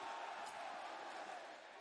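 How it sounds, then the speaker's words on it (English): Wrestling crowd at an AEW Rampage event roaring in a steady, dense wash of cheering, loud and continuous with no individual voices standing out. "Crowd's right into it."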